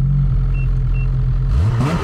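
A snowmobile engine drones steadily and loudly up close in backcountry snow, then rises in pitch as it revs toward the end.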